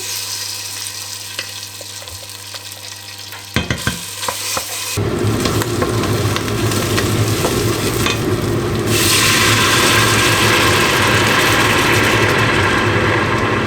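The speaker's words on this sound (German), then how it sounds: "So, etwas Olivenöl. Darin braten wir das Tomaten-Paprika-Mark an." Tomato-pepper paste frying in olive oil, a quiet stir at first, then a sudden loud, steady sizzle that builds and keeps going close by with no talk over it.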